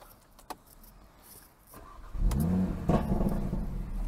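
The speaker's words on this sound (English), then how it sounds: "Just listen to that beautiful sports exhaust." Audi RS3 saloon in Nardo Grey with S tronic gearbox and sports exhaust, starting up and revving: quiet opening with a faint click, then a deep burbling engine swells in after two seconds and a blip rises near the three-second mark, close and throaty.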